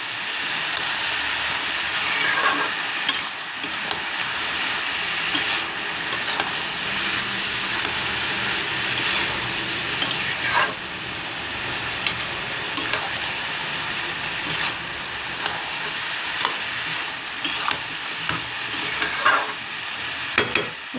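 Cabbage curry with turmeric, salt, cumin, green chilli paste and ginger paste being stirred in a hot pan, a continuous sizzle with repeated scraping strokes and occasional sharp clicks of the spoon.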